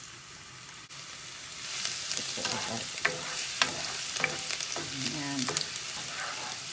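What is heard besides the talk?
garlic frying in hot oil in pan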